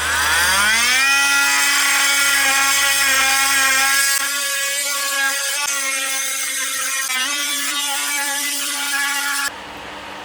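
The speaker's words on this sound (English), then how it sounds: "just keep your blade hard up against that damaged tile and just let the tool do its work." An oscillating multi-tool grinding grout out beside a damaged floor tile, a steady high-pitched buzzing whine that holds for several seconds before cutting off.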